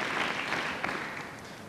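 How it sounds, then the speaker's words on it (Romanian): Studio audience applause on a Romanian late-night talk show, a steady wash of clapping filling the short moment without any talk over it. "Aplauze."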